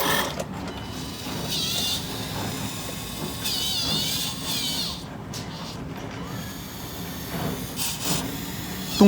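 A 140-jin hydraulic RC excavator swings its upper body around while lifting a full bucket of water weighing about 40 jin, giving a steady close mechanical whir and hiss with hydraulic strain throughout.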